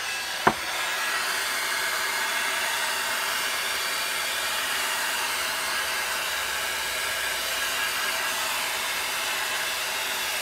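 Hair dryer blowing on metallic shimmer paint, a steady close whooshing roar running the whole time after a brief click at the start.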